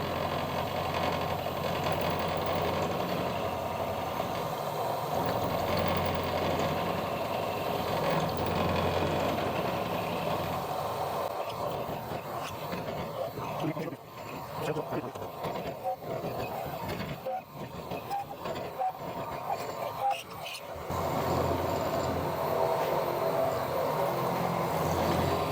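A milling machine makes light dry cuts with an 8mm cutter through a vice, drilling jig part, giving a continuous loud mechanical whirr with a dip partway through before the steady grinding resumes.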